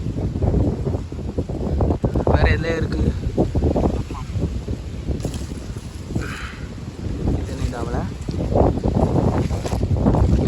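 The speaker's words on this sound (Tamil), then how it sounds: "நல்ல காற்று ஆடி மாதம்" Strong wind blowing outdoors during the Aadi month at a harvest, a continuous loud rushing roar buffeting the microphone throughout while a person talks over it.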